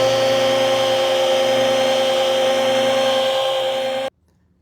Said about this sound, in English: Now I'm going to finish this out with the little 3-inch polisher.